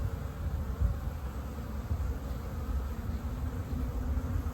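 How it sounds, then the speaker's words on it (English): Honey bees buzz around the entrance of a hive in early spring, a steady, dense hum close by that continues without a break. "I see a bunch of bees going in"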